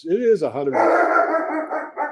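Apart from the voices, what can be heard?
dog barking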